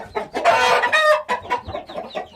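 A young Hint breed cockerel, about three months old, gives a loud, close, rough crow-like call followed by a few short clucks, alone without talk.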